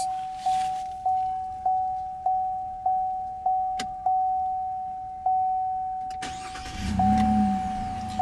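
Evenly spaced dashboard warning chimes ring repeatedly, then a 2018 GMC Canyon pickup's 3.6-liter V6 engine cranks and starts up close, settling into a low rumbling idle.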